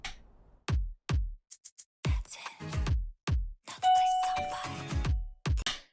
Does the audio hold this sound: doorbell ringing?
yes